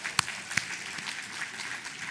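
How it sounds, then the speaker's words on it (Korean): An audience at a seminary board chairman's inauguration ceremony breaks into moderate, steady applause, with a couple of sharper claps standing out near the start. "박수."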